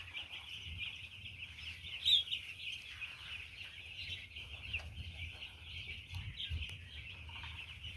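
Chicken chicks chirp steadily in a brooder on a cold day after heavy rain, a dense high-pitched peeping chorus with no talking, ongoing throughout with a sharper call near the middle.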